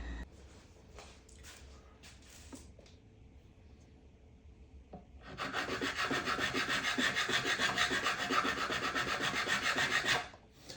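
A file rasps back and forth over the metal frets of an Ibanez Artist guitar during refret crowning and leveling, quiet handling at first, then several seconds of loud, close, rhythmic filing strokes.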